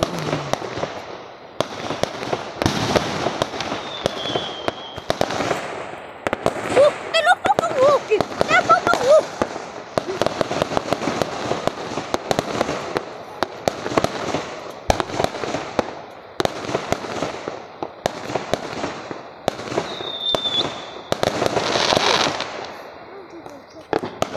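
Fireworks burst during a Hmong New Year 2021 celebration, with loud, rapid crackling volleys and sharp bangs running almost continuously, and voices heard between the blasts.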